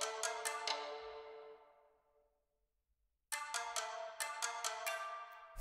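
Plucked one-shot ethnic string sample in a beat, a run of bright, quick plucks that ring and decay into near silence before another cluster of plucks starts, with no talking.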